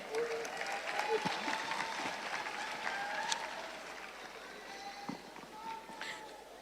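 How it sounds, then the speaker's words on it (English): An audience applauding at a junior calypso monarch finals competition, moderate clapping mixed with crowd noise and a few whistles or cheers. "So let's applaud Marilyn Smith."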